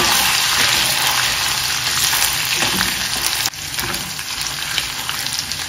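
Crushed ginger frying in hot oil in a pan for squid masala, a loud, steady, close sizzle that crackles throughout with a brief stir-like dip partway through, and no talking.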